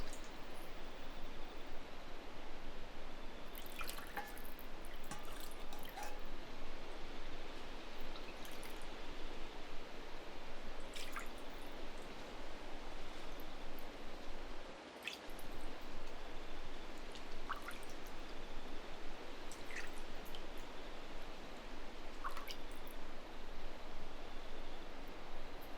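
Steady water trickling and dripping from the moon well, a soft continuous wash with scattered brief drips, close and fairly even throughout, with no voices.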